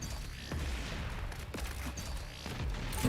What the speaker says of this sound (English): you can just kill him with the heavy cannon, the combat shotgun